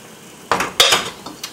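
A utensil knocks and scrapes against a pot as boiling rice gets a quick stir, a few sharp clanks in brief succession and then quiet.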